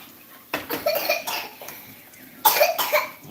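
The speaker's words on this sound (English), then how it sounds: "Whoa, that's a nasty cough you got this morning." Two bursts of harsh coughing, the first a cluster of several coughs and the second after a short pause, close and fairly loud.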